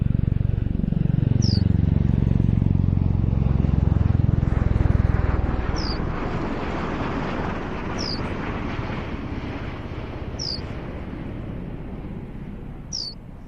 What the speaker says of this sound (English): So converting its touch and go into a 75-degree short takeoff.